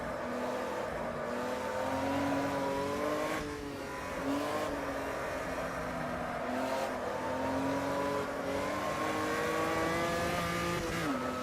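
A 1986 Chevrolet Opala stock car engine at Interlagos in a racing game, revving high then dropping through downshifts, pitch sliding down and climbing again in a steady, loud drone with brief lifts.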